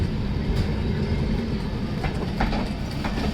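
The Azimabad Express from Patna to Ahmedabad rolls past near Agra, a loud, steady roar of wheels and carriages with faint rhythmic rail clicks and no voices.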